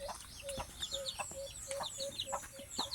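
Chickens, including a featherless-necked hen, cluck repeatedly in a quick rhythm, with higher chirping calls scattered over them, fairly close.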